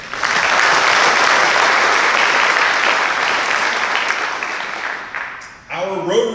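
Audience applause at a high school senior awards ceremony, with a crowd clapping loudly and steadily before fading out, followed by a brief voice.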